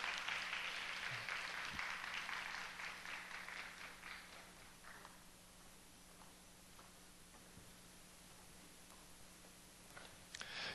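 Congregation applause at a Sunday young adults' church service, a dense burst of clapping that starts at full strength and gradually thins and fades over several seconds, followed by a quieter room with a steady low hum.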